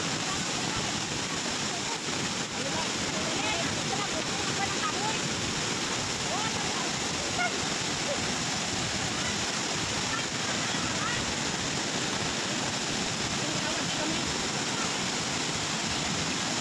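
Floodwater rushes loudly and steadily behind a house, spilling over a fishpond in a constant broadband roar like a waterfall, close and unbroken throughout.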